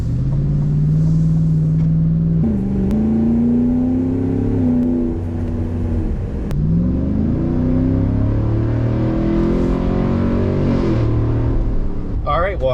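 A 2022 Chevrolet Silverado ZR2 pickup truck driving, its engine a steady low rumble with shifting pitch as it accelerates and eases off, heard from inside the cab.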